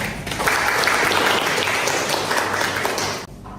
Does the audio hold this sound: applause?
yes